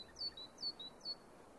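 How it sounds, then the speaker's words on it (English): A Siberian jay calling in a frozen Siberian forest in April: three short, thin rising-and-falling whistled notes evenly spaced, faint and somewhat distant over quiet background. "Among the first birds to nest is the Siberian jay"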